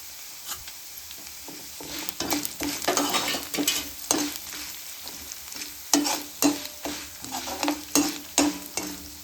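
Dried red chillies, ginger, garlic, tamarind and cumin sizzle in a pan while a utensil stirs and scrapes through them in repeated rhythmic strokes. The sound is close-up and moderately loud, with no voices.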